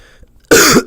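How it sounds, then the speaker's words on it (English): A single sharp, loud cough bursts out close to the microphone after a quiet moment, followed by a brief second catch of breath during a live stream. "That cough wasn't muted."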